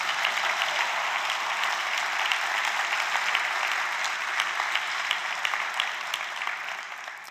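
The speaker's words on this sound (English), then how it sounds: "Give yourselves a round of applause." Audience applause at a conference opening ceremony, steady sustained clapping from a large crowd that holds at an even level throughout and tapers slightly at the end.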